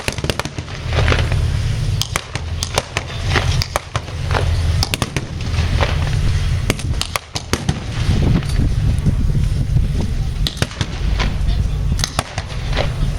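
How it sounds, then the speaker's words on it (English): Sharp cracks and pops of blank gunfire ring out repeatedly across a tank battle reenactment at Tank Fest 2022, irregular bursts over a steady low engine rumble at a loud outdoor event. "Lots of rounds cracking across the battlefield."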